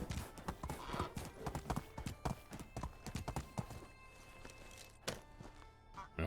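Hooves of a horse in the video game Medieval Dynasty clip-clop in a quick, irregular rhythm, fairly close, then slow and thin out to a few scattered thuds.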